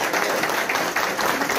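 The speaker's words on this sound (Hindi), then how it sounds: "हम चाहते कि आप जोरदार तालियों के साथ इस्तकबाल करें" Sustained applause from an audience at a newspaper's seventh anniversary ceremony in Aurangabad honouring journalists, a steady dense wash of clapping with no voices over it.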